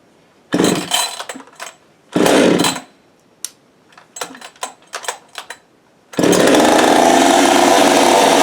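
A Husqvarna 565 chainsaw fitted with a pop-up piston and muffler mod revs loud and close in short bursts, with a longer sustained full-throttle roar at the end.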